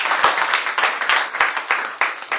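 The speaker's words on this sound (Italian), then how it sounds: "Facciamo un applauso." Audience clapping at an Italian book talk, with close distinct hand claps over a sustained round of applause, fairly loud and steady.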